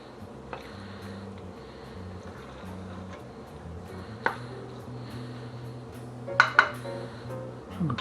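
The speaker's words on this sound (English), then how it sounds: "So I'm going to put some into a bowl so you can have a look." Mac and cheese made in an Instant Pot without milk or butter being spooned into a bowl: soft scraping and a few sharp clinks of a utensil against dishware, close and fairly quiet over a low background hum.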